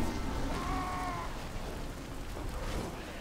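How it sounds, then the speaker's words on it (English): Freezing Rain spell cast in the strategy game Rise of the Witch-king: a steady, loud rain-like hiss fills the clip throughout, with a faint whistling tone rising briefly near the start. "Freezing Rain was used."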